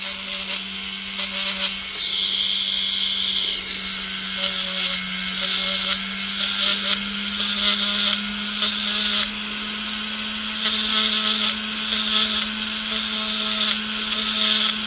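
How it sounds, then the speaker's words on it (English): A small rotary tool whines steadily while smoothing the inside of a ring during jewelry repair, a continuous high buzz with pulsing grinding bursts as it touches the metal, close and sustained throughout. "all we're doing now is just smoothing out the inside of the ring."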